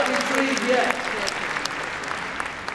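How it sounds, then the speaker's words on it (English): Crowd applause at the Crufts dog show during a gundog display, a dense continuous clatter of clapping in a large hall, with a voice briefly heard over it at the start. "Give her a big round of applause, please."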